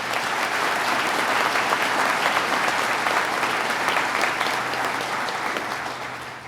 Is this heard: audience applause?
yes